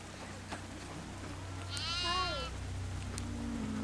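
A goat in the horror video game Devour lets out one clear, wavering bleat over a low ambient hum, fairly loud and close, with no one talking.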